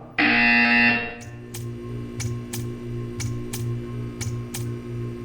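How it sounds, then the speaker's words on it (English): Portal 2 video game buzzer: a loud sustained electronic buzz opens, followed by a steady series of sharp repeated clicks or ticks over a low hum. "You will hear a buzzer."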